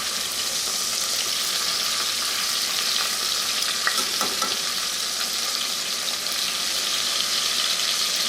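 Chicken pieces browning in hot oil inside a pressure cooker sizzle and crackle in a steady, loud hiss that continues unbroken, with occasional sharper pops and no talking.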